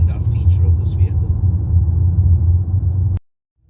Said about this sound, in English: This is not a very smooth piece of highway road, and yet it's just cruising along in sheer comfort.